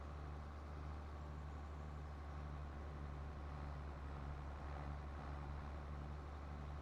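A tractor in Farming Simulator 22 pulls a cultivator working deep in a field, a steady loud low engine drone with a constant hum running unbroken throughout, no voices.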